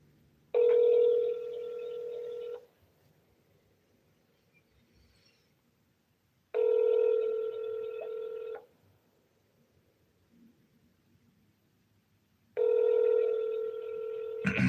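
A Google Voice call connects through three separate tone bursts, each lasting about two seconds with quiet gaps between them. The tones are clear and sound alone, with no voices.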